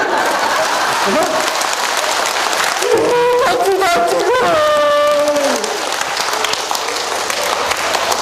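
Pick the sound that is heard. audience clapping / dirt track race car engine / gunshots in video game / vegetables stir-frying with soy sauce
audience clapping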